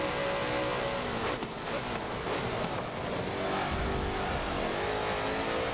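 A race car engine in Forza Motorsport 7 revs high toward the red line with rising and falling tones and a brief dip near the middle, loud and continuous under no talk.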